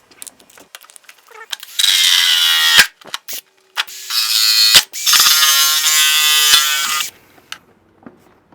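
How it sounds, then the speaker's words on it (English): A power tool grinds through plastic to widen a hole for a fan in a puppy incubator, cutting in two loud sustained bursts of about a second and three seconds with short scraping taps between. "I'm going to cut this hole bigger because I don't like the way these fan blades are catching on this plastic"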